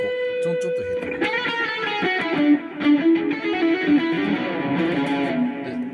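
Electric guitar played through a VOX amPlug2 Lead headphone amp with reverb and delay, notes ringing out with echoing repeats, steady and close with no talking.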